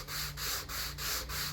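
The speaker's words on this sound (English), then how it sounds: "take my 220 grit sanding block and I sand it" A 220 grit sanding block rubs along the grain of a wooden plaque in steady back-and-forth strokes. The rasping is close and even, with brief gaps where each stroke reverses.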